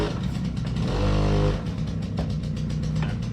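On a 1.8T build, the engine revs hard as the throttle is applied, a loud near drone swelling then dropping back into uneven running with clattering.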